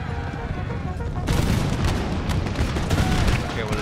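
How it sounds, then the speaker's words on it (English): Artillery firing in Empire Total War, a dense rumbling fusillade of booms and cracks that swells partway through into a heavy, continuous barrage, loud and close, with talking over the battle noise. "Okay, well they decided to fire the artillery instead"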